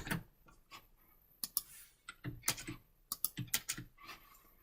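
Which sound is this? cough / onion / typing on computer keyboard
typing on computer keyboard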